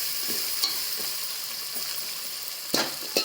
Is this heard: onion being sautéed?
yes